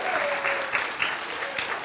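An audience claps after a juggling act at a celebration-of-life gathering: steady, dense applause from a crowd that lasts the whole brief moment without fading.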